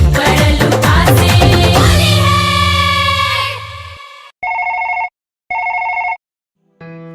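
A music track fades out and a telephone then rings in three evenly spaced electronic bursts separated by silence, loud and close.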